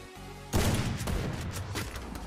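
Burst of rapid gunfire in the battle-royale shooter Free Fire, a loud crackling volley that starts abruptly after a brief quiet moment and keeps going to the end.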